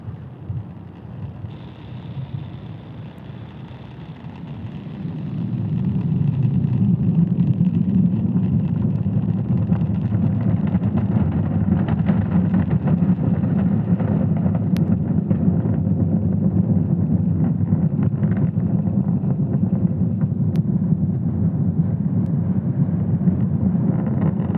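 Falcon 9 rocket carrying Starlink satellites roaring during ascent: a steady, dense low rumble that swells after the first few seconds and then holds loud and constant, with wind buffeting on the microphone.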